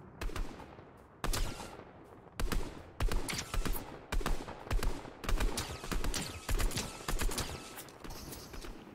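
Repeated gunfire in Fortnite Chapter 3 squad battle royale, sharp shots and short bursts cracking throughout with brief gaps, loud and close, no talk.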